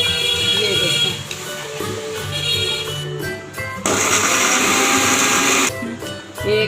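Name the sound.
blender grinding biscuits in a jug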